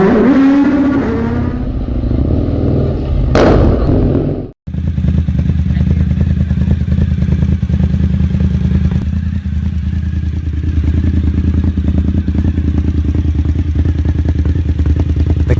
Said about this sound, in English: The Cagiva Raptor 1000 with its rumbling exhausts combines power and elegance.